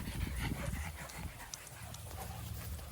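A big pack of dogs running with a dingo pants faintly with soft breathy huffs and a low rumbling of movement, some distance off.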